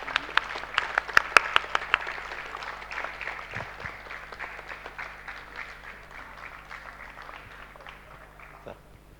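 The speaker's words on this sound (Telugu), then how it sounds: "ఒకరు గట్టిగా చప్పలు కొట్టుకుంటాం" An audience at a rally in Tirupati bursts into applause, loud sharp claps at first that settle into a steady patter and slowly fade away.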